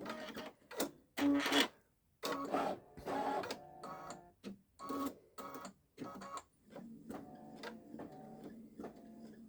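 A Baby Lock Solaris embroidery machine stitches a fill area, with rapid mechanical needle clatter coming in repeated bursts broken by short pauses, fairly close and loud with no talk.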